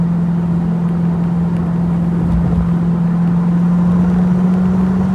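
A V8 engine in an open-top car cruising through the Derbyshire Peak District, a loud, steady low drone with constant road and wind rumble and no change in pitch.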